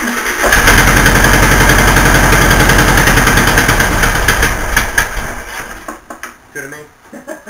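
A 1964 VW Beetle engine cranks and catches, running at a loud, rapid, even chug with a strong low thrum before it stumbles and dies away toward the end, close to the microphone.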